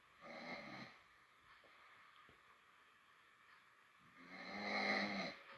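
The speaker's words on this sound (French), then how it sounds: "Putain, qu'est-ce que j'ai bien ronflé." A sleeping man snores at night in two heavy, rasping pulls a few seconds apart, loud and near, with quiet breathing noise between them.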